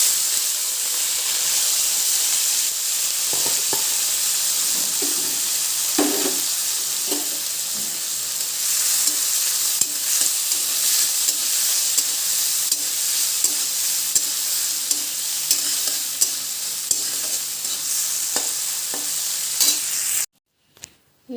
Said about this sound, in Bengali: এখন চিংড়ি মাছটা দিয়ে দেবো।